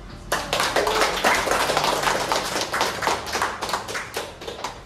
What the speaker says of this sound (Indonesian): Kakak Abang, tepuk tangan.